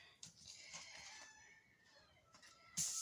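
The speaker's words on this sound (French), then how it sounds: "si vous entendez le coq, c'est le mien." A rooster crows faintly in the distance, a drawn-out call that rises and fades, with a sharper burst near the end against a quiet indoor background.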